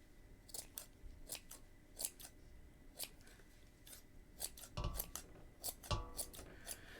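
Scissors trimming a yarn pom-pom: a steady series of crisp, close snips, roughly one or two per second, with soft fibrous rustling between cuts.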